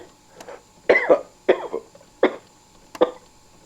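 Several loud, harsh coughs after a deep drag on a cigarette, in quick succession, close by, each a rough burst with a short pause between.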